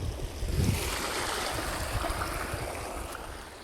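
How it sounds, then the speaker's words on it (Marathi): Well water rushes steadily under pressure through a farm field, a loud, continuous broadband gush with wind buffeting the microphone, and no voices. "त्या विहिरीचं पाणी इथं सुरू आहे आणि किती प्रेशर आहे सगळ्यात जास्त."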